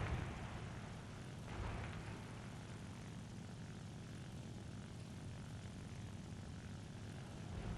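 Propeller engine of a Nakajima Ki-43-II fighter in the War Thunder video game drones steadily and loudly throughout, a continuous broadband roar with no talk.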